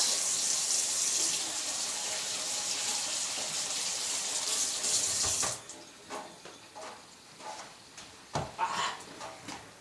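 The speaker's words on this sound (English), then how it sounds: "I'll be sure to wash my hands before I touch the food" Tap water runs steadily from a faucet into a sink as hands are washed, a close, continuous gush that cuts off partway through, followed by quiet splashes, drips and small handling noises.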